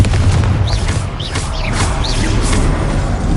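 Confringo fire spell blasts in Hogwarts Legacy, a loud continuous booming roar of explosions and combat with chirping magical effects layered on top, no talk.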